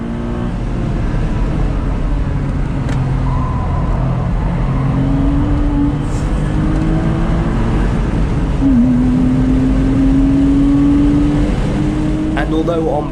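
Porsche Boxster Anniversary Edition driven on track, its engine droning loud and steady with the intake note rising and settling through gear changes beneath constant road and wind noise.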